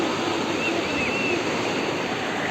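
Autumn sea waves washing onto the shore near Burgas, a steady loud broadband rush of surf with some wind, continuous and close.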